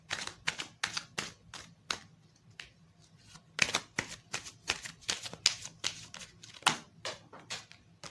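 Tarot cards shuffled by hand in a run of crisp riffling bursts, some rapid and clustered, others spaced out with short pauses, close and clear with no talking.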